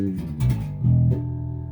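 Electric guitar played with the tone control rolled fully to bass, giving a thick, dark sound: a few sustained low chords ringing loud and close with no talking.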